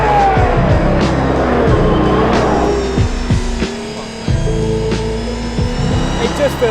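Inside the cabin of an Aston Martin Valkyrie hypercar on the roads of Bahrain, the engine roars loud and close at a steady pitch, with tyre and road noise and a slight dip in level midway.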